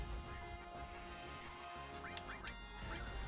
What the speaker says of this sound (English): Birds! Silly birds!